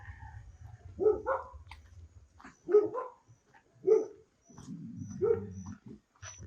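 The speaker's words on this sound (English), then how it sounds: "Dog growled, that means no." A dog on newly cleared land near Bacalar, Mexico, growls and gives several short, faint barks and yips at spaced intervals, with a low rumble under parts of it and no talking.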